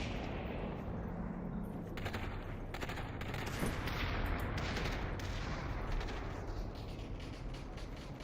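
Sustained gunfire on a shooting range in the VR battle royale game Population: ONE, a dense, continuous rattle of rapid shots and bursts that runs steadily for about eight seconds with no talking.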